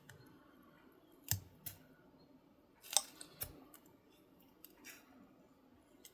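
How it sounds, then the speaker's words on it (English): Scissors cut through paper coated with cured UV resin, a handful of slow, separate crunchy snips with quiet gaps between them, close and alone. "then we'll cut this one out"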